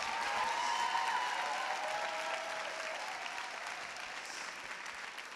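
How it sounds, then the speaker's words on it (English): Audience applause at an evening awards show, a steady wash of clapping at moderate distance that slowly tapers over several seconds. "Can you kindly please show Aisha by applause how much you're enjoying the inspirational show tonight?"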